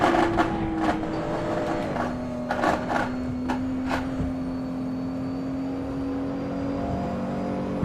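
Racing car engines drone through a rainy driving video game with 23 identical cars on track, a sustained whining engine tone under the wet road noise, punctuated by a few clicks and bursts.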